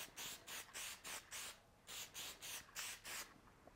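Bursts of aerosol Plastidip being sprayed onto a car in a second, slightly heavier coat, about a dozen short hissing passes in a steady rhythm, close and fairly quiet, with no talking.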